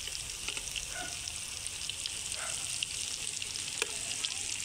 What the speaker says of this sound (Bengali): ফ্রাই প্যানের মধ্যে এক এক করে প্রথমে আমি এইগুলোকে ভেজে নিই